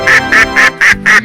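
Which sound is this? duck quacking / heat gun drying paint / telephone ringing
duck quacking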